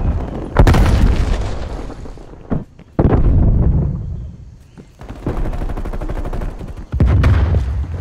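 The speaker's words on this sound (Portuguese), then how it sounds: "Lançando granada." Grenade explosion in the video game Call of Duty Black Ops Cold War, several heavy booms mixed with bursts of gunfire, loud and close with sharp onsets.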